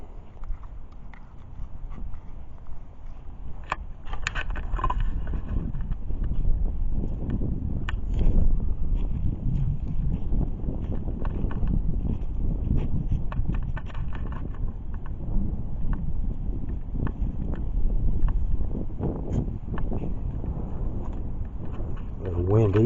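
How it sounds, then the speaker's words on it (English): Wind buffets the microphone at a cemetery in steady low rumbling gusts throughout, with faint scattered footsteps and rustles underneath. "A little windy, so the camera's probably going to pick up some wind sounds"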